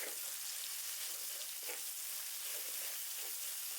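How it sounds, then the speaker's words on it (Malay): Oil sizzles and crackles steadily in a pan as a tom yam spice paste is stirred and fried until the oil separates, a soft continuous hiss with no voices. "kita tumis semua bahan ni hingga pecah minyak"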